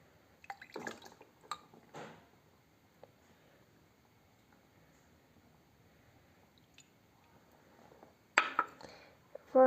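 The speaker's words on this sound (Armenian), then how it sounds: "մեջ է լցնում մի փոքր ջուր։" A small amount of water is poured into a glass holding a leaf cutting, heard as a few short splashes and drips near the end after a mostly quiet stretch with faint handling noises.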